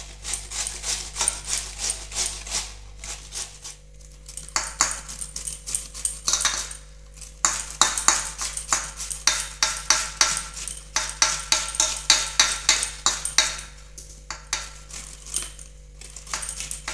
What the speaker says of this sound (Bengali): সব চাল কুমড়োগুলো আমি কুড়ে নিয়েছি।